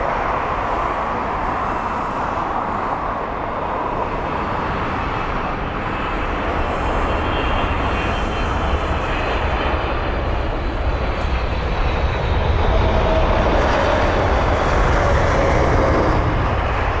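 A Saudia airliner, flight SV117 from Riyadh, lands at London Heathrow with a loud, sustained engine roar that holds steady throughout.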